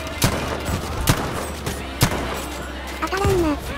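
Sniper rifle shots in Battlefield V, three sharp loud cracks roughly a second apart, each with a short rumbling tail, followed by a brief rising mechanical whine near the end; no talk.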